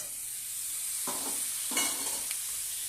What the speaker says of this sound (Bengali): সবগুলো একসাথে একটু ভালো করে ভেজে নেব